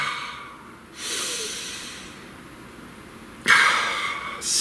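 Two deep breaths drawn through the nose close to the microphone, each a long airy inhale tailing off slowly, the second louder and sharper, with no talk.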